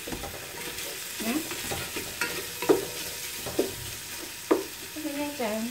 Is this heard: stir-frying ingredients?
yes